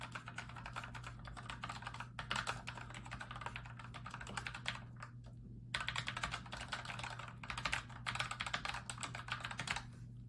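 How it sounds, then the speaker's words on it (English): Steady typing on a ProtoArc MECH K200 mechanical keyboard with red switches, a dense run of soft, close clacks with a brief pause midway, no voices. "It has red mechanical switches, and I love a mechanical keyboard, and I think the red switches work out great."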